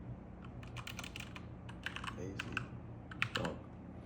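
Fingers typing a sentence on a computer keyboard, a quick irregular run of crisp close key clicks with brief pauses between words, quiet room, no talking.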